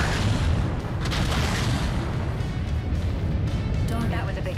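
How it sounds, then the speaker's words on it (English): A big explosion in the mech combat video game Mechwarrior 5 rumbles as a dense, loud, sustained boom with crashing debris that fills the whole stretch, mixed with game voices. "Darn, that was a big explosion."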